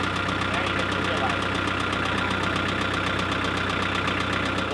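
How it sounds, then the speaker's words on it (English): A tractor engine runs steadily throughout, a continuous close mechanical drone with a knocking, idling character and no breaks, during preparations for a cold Alaskan winter. "So we fired up the tractor."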